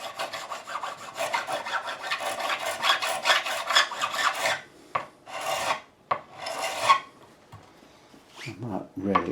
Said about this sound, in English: I'm going to make it even thinner by using this file. A much finer cut.